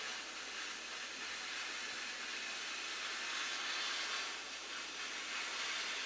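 Several torches heating dab rosin give a steady, dense roaring hiss that fills the whole stretch without pause or change.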